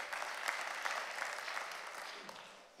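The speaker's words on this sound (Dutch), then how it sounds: "Ja, applaus." Concert audience applauding before a wind ensemble performance, a steady wash of clapping that stays fairly faint and distant, thinning slightly toward the end.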